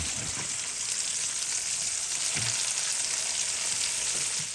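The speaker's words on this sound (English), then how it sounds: "let's take our pierogi, and let's go ahead and sear them" Pierogi searing in hot oil in a pan, a dense, continuous bright sizzle holding steady throughout with a few faint soft knocks underneath, close and even, no voices.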